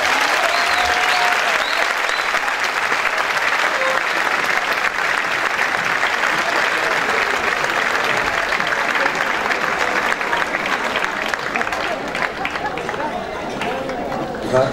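A concert audience applauds a children's choir with dense, sustained clapping that fills the hall, accompanied by crowd murmur throughout.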